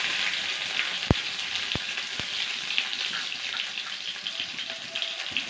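Chopped onion and chili frying in a pan for a Kerala drumstick and cashew dish, a steady broadband sizzle with a few sharp clicks of a utensil against the pan, no talk.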